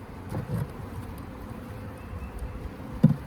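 A low, steady buzzing of honey bees near at hand around an open Layens hive as frames are shaken, with a couple of soft knocks toward the end.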